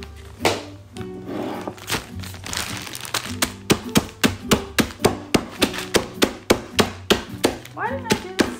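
A hammer crushing pistachios on a kitchen surface, sharp cracking knocks that begin scattered and become a fast, even run of close, loud blows with the shells crackling, with faint talk around them.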